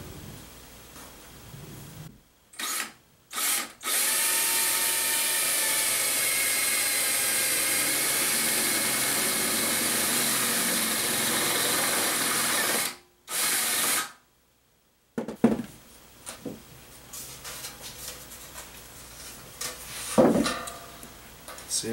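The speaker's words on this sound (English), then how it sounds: "so let's just pick a place and drill a hole" A power drill bores a hole in a home shop, a loud steady whine running about ten seconds, stopping, then a short second burst, followed by quieter clattering handling noises.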